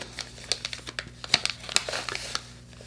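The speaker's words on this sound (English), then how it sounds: "I love these cute little packages. I'm gonna rip it up though." A small tea sample package is crinkled and torn open close up, giving a series of sharp, irregular crackles and rips that are fairly quiet and come with no speech.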